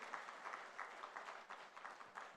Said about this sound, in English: Round of applause to her once again.